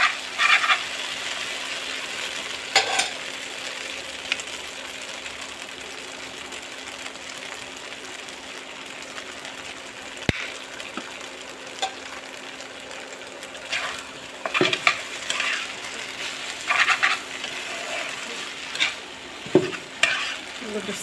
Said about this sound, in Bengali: এখন একটু নেড়ে চেড়ে টমেটো সসের মধ্যে দিয়ে দিব।